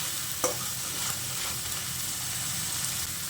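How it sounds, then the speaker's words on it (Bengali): Spice masala and salt stirred in a frying pan for Bengali egg curry (dimer kosha), oil already separating; steady close scraping and stirring over a soft continuous sizzle, with one sharper scrape near the start, no voices. "নুনটা দিয়ে মশলার সঙ্গে আবারও ভালো করে মিশিয়ে নিচ্ছি"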